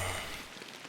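Rain pours steadily in the Fishing Planet fishing game, set in New York, a dense even hiss of drops on a surface for a brief moment.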